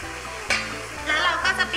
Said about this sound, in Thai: เมื่อเนยละลายดีแล้วนะคะก็ให้เราวางตัวมะเขือเทศที่เราทำไว้นะคะลงไปเลยค่ะ